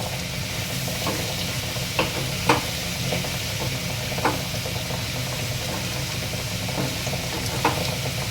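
Tomato pieces stirred into a brinjal curry in a pan, a steady close sizzle with periodic scraping knocks of a spoon against the pan, no speech.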